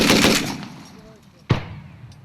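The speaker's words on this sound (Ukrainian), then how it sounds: "Постріл!" A loud burst of gunfire rings out, then fades into an echo before a single sharp, close shot cracks and trails off.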